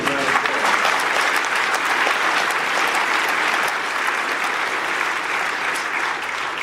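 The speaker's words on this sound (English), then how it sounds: "Give Dan Forrest a round of applause." Sustained applause from an event audience at a holiday gathering, dense steady clapping filling the whole stretch without a break, loud and close.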